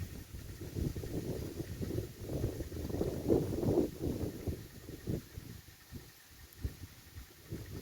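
Steady outdoor wind rushing and buffeting the microphone, low and continuous with gusts rising and falling.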